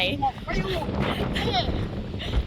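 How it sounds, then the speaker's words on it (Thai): Strong wind gusts buffet the microphone at a campsite in Huai Nam Dang National Park, Mae Hong Son, making a steady roaring rumble while people talk over it. "ทุกคนคะดูลมแรงมาก แค่ไหน"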